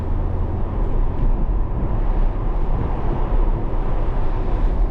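A 500 hp C8 Corvette cruising at night with the top down, its engine a steady low rumble mixed with broad wind and road roar throughout, loud and continuous with no talking.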